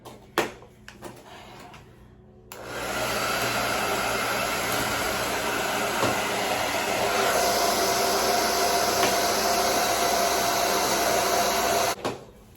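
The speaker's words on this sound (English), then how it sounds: "I am going to get my blow dryer, and I'm going to start blow drying" A hair dryer on its low setting clicks on and blows with a steady, loud whirring hiss for several seconds before switching off, with small handling clicks around it.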